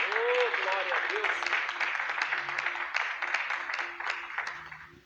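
A church congregation claps during a morning worship service, steady rhythmic palms at moderate volume behind a preacher and singing voices that continue over the top.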